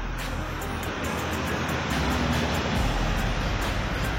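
Bus passing on a road at night, a broad rushing roar of engine and tyres that swells slightly toward the end, heard close and alone without talk.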